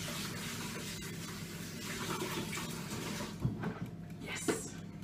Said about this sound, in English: So I'm going to get to wash up my cooking pot in cold water.